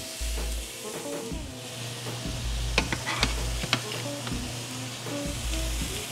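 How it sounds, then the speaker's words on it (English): Lamb rubbed with garlic and oil sizzling on a hot grill, a constant close fry with the meat being moved about in bursts of stirring, several sharp ticks and clatters, and a low hum that comes and goes. "so it's come time to start grilling off the lamb"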